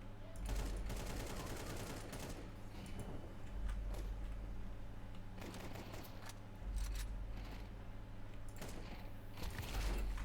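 Gunfire in Counter-Strike 2 comes as clustered bursts of rapid shots and short volleys separated by brief pauses, with a steady low hum from the game underneath and no talk.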